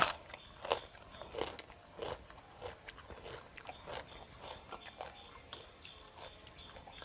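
Spicy pounded chicken feet salad gets bitten and chewed up close, a string of crisp crunches and crackles repeating irregularly, quiet and with no talking.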